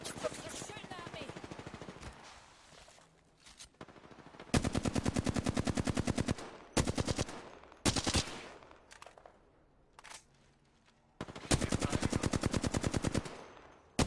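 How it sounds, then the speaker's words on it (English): Video game gunfire aimed at the player: rapid automatic bursts in several long volleys separated by brief pauses, loud and close, with short single shots between them. "They're shooting at me."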